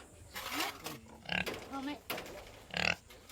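Pigs raised on a small vegetable farm in Indonesia, giving several short grunts and oinks in bursts, fairly quiet, mixed with nearby voices talking.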